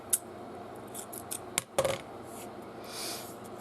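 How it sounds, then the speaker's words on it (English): Scissors snip sewing thread while beading a Christmas ornament appliqué, giving a few short, crisp, close-up cuts with quiet handling rustle between them. "Alright, I'm gonna have to cut it."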